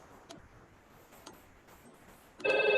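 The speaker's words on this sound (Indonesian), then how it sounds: "di sini bisa kita lihat IP phone yang nomor 1001 bunyi" An IP phone, extension 1001, starts ringing near the end with a sudden loud electronic ring burst, after a quiet stretch of faint ticks and clicks.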